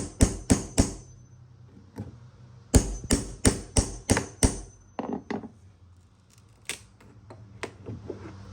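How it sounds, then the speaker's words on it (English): A hammer strikes a metal 5-in-1 tool wedged under trim on a veneer-over-particle-board dresser, ringing taps landing in quick even runs of three to five, then slowing into scattered single knocks, close and crisp. "I'm using a 5-in-1 tool and my hammer, and I'm just kind of prying it up."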